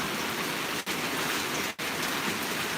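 Steady rain falling on a rainy afternoon, a dense continuous hiss of drops on surfaces, broken by two very brief dropouts.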